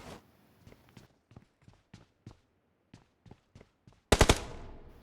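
PUBG Mobile gameplay: a run of quick in-game footsteps ends in a loud, sharp burst of several rapid gunshots near the end.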